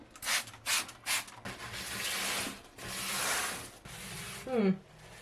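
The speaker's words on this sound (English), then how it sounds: "Now the next step is just kind of wiping everything down in here." A cloth or sponge wipes down surfaces during a household deep clean, making brisk rubbing strokes: three short swipes, then longer sweeping passes, ending with a brief squeaky sound, close and moderately loud.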